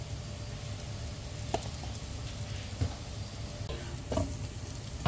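Dry masala spice powder with chilli powder frying in a pan for an egg dish, a soft steady sizzle with occasional scraping stirs of a spoon, close and moderately quiet throughout.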